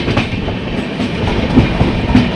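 Wheels of a Duronto Express sleeper-class train roll along the Konkan Railway, a continuous close rumble with a faint clickety-clack and a couple of soft thumps near the end, no one talking.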